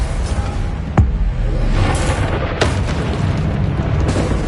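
Explosive Confringo spell blasts in the Hogwarts Legacy video game, with a sharp loud boom near the start and another burst later, over a constant rumbling roar of combat.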